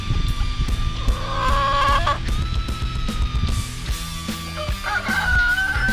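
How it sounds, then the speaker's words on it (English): A chicken crows loudly and clucks close by at a backyard chicken coop, with drawn-out crowing calls over a busy mix of bird sounds. "Oh, chicken."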